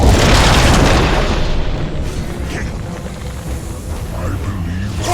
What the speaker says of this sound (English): I believe Flashbang!